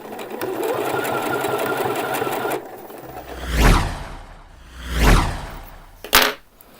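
A sewing machine runs steadily while stitching the sleeve hem of a T-shirt, a continuous close whirring stitch for a few seconds, then stopping and giving way to several loud handling thumps and rustles of fabric.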